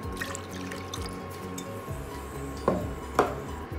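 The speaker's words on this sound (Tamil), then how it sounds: "This is 3 cups of water I'm adding." Three cups of water poured into modak dough flour in a kitchen bowl, a steady trickling splash with clinks of utensils and two sharper knocks near the end, no talk.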